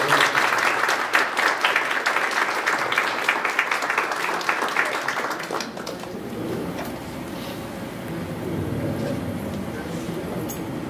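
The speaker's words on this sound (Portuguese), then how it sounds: "Uma salva de palmas para ele pelo trabalho." Applause at a Brazilian academy diploma ceremony, dense broadband clapping from an audience for about six seconds, then fading into a quieter room murmur with faint voices and shuffling.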